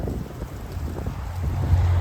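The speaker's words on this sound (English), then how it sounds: "it's a little bit windy" Wind blowing outdoors and buffeting the microphone at an open-air performance on unceded land, a steady low rumble that swells louder toward the end, with no talk.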